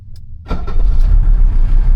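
A car engine running on homemade black diesel cranks briefly and catches, then settles into a loud, steady rumbling run close to the listener.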